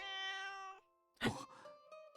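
A cat in the otome video game Piofiore gives a soft drawn-out meow, then after a short pause a second brief meow with a little trailing chirp, close and clear.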